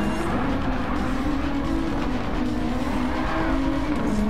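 A car sliding with squealing tires during a racing game: a steady engine drone under continuous skidding screech, loud and close throughout.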